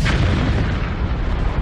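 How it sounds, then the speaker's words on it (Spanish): A meteorite impact explosion, a deep, dense roar of rumbling blast that fills the whole moment with sustained low boom and crackle, loud and close, with no voices. "En unos segundos se produce una enorme explosión."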